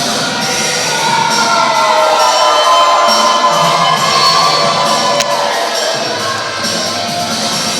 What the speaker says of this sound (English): Crowd telling both of them where they can go.